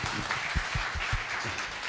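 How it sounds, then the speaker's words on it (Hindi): Audience clapping for Rakesh at a church gathering, a dense, steady wash of applause with a few heavier thumps, filling the whole stretch with no talk over it. "राकेश जी के लिए ताली बजाइए प्लीज"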